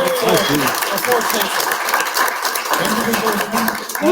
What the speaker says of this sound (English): So I think he deserves a round of applause now.